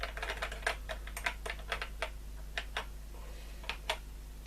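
Keys clacking on a ZX81 home computer keyboard, quick irregular bursts of taps with short pauses between, close up and fairly quiet with no talking.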